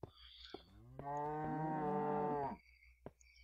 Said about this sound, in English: Got some cows.